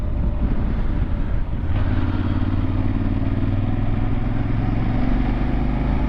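A motorcycle cruising along an open road, its engine a steady close drone with a brief dip early on before settling back into an even hum.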